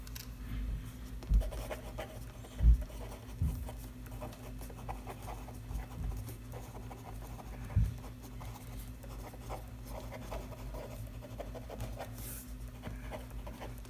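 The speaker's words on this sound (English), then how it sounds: "let's continue with the writing sample." A Pilot Custom 74 Music fountain pen with a cursive italic nib scratches faintly across paper in soft, irregular strokes, while a dog pants nearby and low background hum persists.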